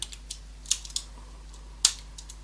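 A few sharp, isolated clicks of typing on a computer keyboard, quiet and close, with irregular gaps between keystrokes and one louder tap near the end.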